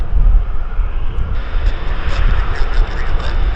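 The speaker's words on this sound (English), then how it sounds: "We've got a Bizjet taxiing." A business jet taxis at Vancouver airport, its engines producing a loud, steady rumble and roar that holds through the whole stretch.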